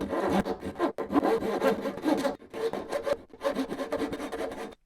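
A hand saw cuts about an inch down into a wooden tube, repeated rasping back-and-forth strokes in an even rhythm, close and clear with brief pauses between bursts.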